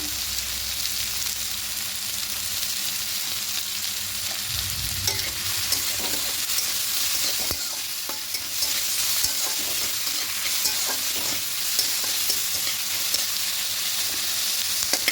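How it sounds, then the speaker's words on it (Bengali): Tomatoes with onion frying in a pan while being stirred, a continuous close sizzle with scattered scraping and clicking of the spoon against the pan. "এবার টমেটোটা দিয়ে একটু হালকা করে নাড়াচাড়া করে নেবো"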